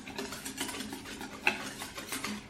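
A spoon stirs homemade Caesar salad dressing in a bowl, making quick repeated scraping and swishing strokes up close, with one small clink of metal against the dish.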